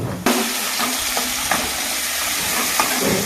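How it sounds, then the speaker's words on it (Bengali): Banana flower frying in a pan as it is stirred with spices: a continuous loud sizzle broken by a few sharp scraping strokes of the stirring utensil, heard up close with no voices. "এটা হচ্ছে মশলা দেওয়া হচ্ছে, মশলার সঙ্গে মিক্সিং বলা হয় এটাকে"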